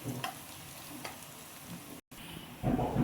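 Chopped onions frying in hot oil in a pan for Yippee noodles, a steady close sizzle with occasional scraping stirs and a louder crackling burst near the end.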